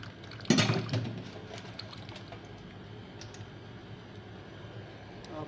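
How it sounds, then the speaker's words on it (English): Banga palm nut stock being poured through a sieve set inside a cooking pot, a brief splashing rush of liquid followed by a quiet trickle and faint kitchen background. "Then you pour it in the sieve inside the pot"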